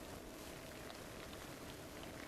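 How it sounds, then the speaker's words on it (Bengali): Steady morning rain falls continuously as a faint, even hiss with no break, far and soft, with no voices. "কাল রাত থেকে বৃষ্টি হচ্ছে সারা রাত বৃষ্টি হয়েছে আর সকালে এখনও বৃষ্টি হচ্ছে"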